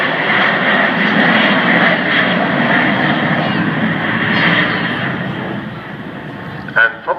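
An Avro Vulcan jet bomber roars past overhead at an air show, a loud sustained rumbling engine noise that slowly fades as its bomb bay doors close, with someone speaking over it.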